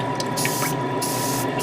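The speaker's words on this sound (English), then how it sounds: "I'm going to continue with priming" Spray primer hisses in close, continuous bursts onto plastic parts of a 1/144 HG GM Spartan Gundam model kit, with a steady background hum and no talking.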